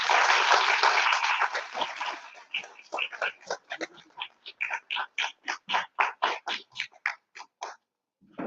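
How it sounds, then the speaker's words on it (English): An audience at a national seminar applauds to welcome the principal: a loud, dense burst of clapping that soon settles into a slower run of distinct, evenly spaced claps before stopping. "Please welcome her with a huge round of applause."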